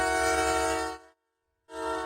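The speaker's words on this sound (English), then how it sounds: "There's that holiday train chugging through Wisconsin" The Canadian Pacific Holiday Train rolls through Wisconsin, sounding a loud, sustained multi-tone horn that cuts off briefly, then resumes, with low rumble of the train underneath.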